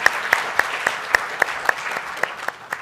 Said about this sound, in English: Let's give him a round of applause as he takes his seat.